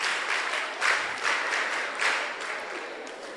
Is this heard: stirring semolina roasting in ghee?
no